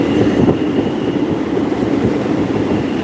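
A metro train passes through an MRTS station with a steady rolling rumble and faint wheel clatter, continuous and fairly close throughout.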